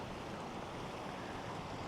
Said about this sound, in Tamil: எல்லாம் அப்படி உடைச்சி அப்படியே தண்ணி போகுது